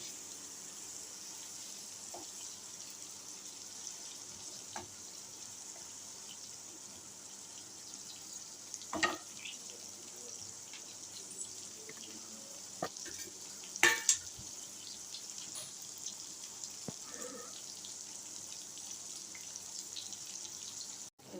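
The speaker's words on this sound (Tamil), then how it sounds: "எண்ணெயிலே இதை வதக்கி எடுத்துட்டோம்னாக்கா இந்த தோல்லாம் நல்லா வெந்துடும்." Citron peel sautés in oil for a pickle, giving off a soft, steady sizzle. Occasional clicks and scrapes from stirring sound near and faint throughout.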